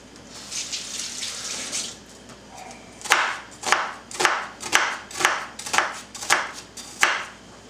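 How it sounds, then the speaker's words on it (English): A knife chops through half an onion on a cutting board, about nine crisp, evenly spaced strokes ringing out close and fairly loud after a softer stretch of handling and rustling. "Now I just need to cut up all these vegetables. I'm going to use about a half of this onion."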